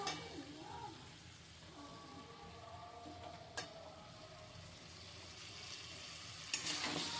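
Tomato paste and masala sautéing in a pan give a soft, steady sizzle at low level, broken by a couple of sharp utensil taps and some scraping stirs toward the end.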